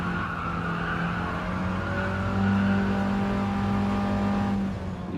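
A 1965 MINI Cooper S engine held at full throttle, a steady, loud droning growl that climbs slightly in pitch before easing off near the end, with no voices.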